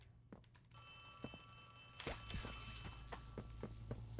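A telephone rings in the horror video game Poppy Playtime Chapter 3, a steady electronic trill rising louder midway with faint thumps and footsteps around it, no voices.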